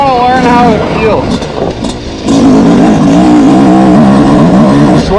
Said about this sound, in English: This is my first time riding this bike on this rocky knife edge stuff.